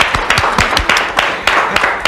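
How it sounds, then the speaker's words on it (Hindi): A small group in an office comedy scene claps loudly and close by, with distinct, uneven individual claps rather than a dense roar. "तालियां"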